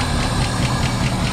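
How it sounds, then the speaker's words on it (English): A 1968 Ford Mustang, left parked for about 20 years, idles in a steady, loud, close rumble with an even mechanical chatter and no voices. "It's friggin' idling."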